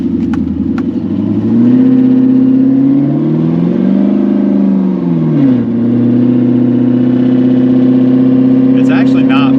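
A truck engine with an equal length exhaust and open cutouts drones loudly and steadily, swelling into a brief rev midway before settling back to a deep, constant rumble.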